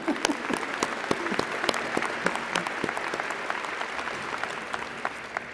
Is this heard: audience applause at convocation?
yes